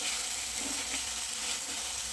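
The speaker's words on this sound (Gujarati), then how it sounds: "હવે બધું સરસ મિક્સ કરી લઈશું." Paneer stuffing with Schezwan chutney sizzles and fries in a pan while being stirred, a steady close hiss with faint scraping and no voices.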